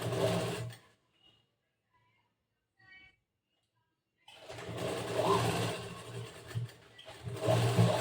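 A sewing machine stitches a lehenga, its motor running in a short burst, then falling silent before a longer, sustained whirring run close by.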